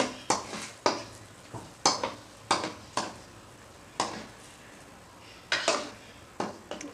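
Spoon stirring baby corn gravy in a pan, with a dozen or so sharp scraping clinks in an irregular rhythm over a soft simmering hiss, close and clear with no talking.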